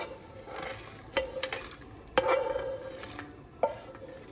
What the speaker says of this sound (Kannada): ಈಗ ಬ್ಯಾಡಗಿ ಮೆಣಸು, ಗಿಡ್ಡ ಮೆಣಸು, ಕರಿಬೇವಿನ ಸೊಪ್ಪು, ಹಿಂಗೆ ಹಾಕಿದ್ದೀನಿ.